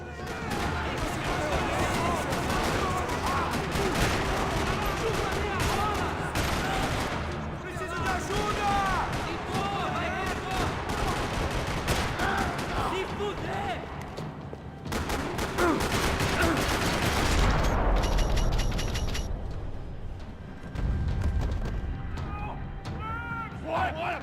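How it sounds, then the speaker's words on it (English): Gunfire in a parking lot in Max Payne 3: dense, rattling volleys of shots and bursts fill the scene almost continuously, loud and close, with voices over it. "Another parking lot rattling with gunfire."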